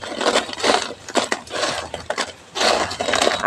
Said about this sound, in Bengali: আওয়াজ শুনেই বুঝতে পারছো কতটা মুচমুচে হয়েছে।